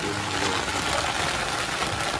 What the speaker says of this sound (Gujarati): કેવો પવન ને વાવડો બધો વધી ગયો છે ભાઈ